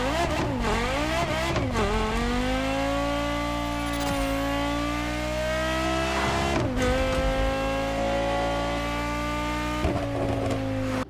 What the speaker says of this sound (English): And here's how it sounds in the Crew Motorfest.